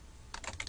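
Quick, light keystrokes on a computer keyboard tap out text in a short burst after a moment of near silence, close and fairly quiet.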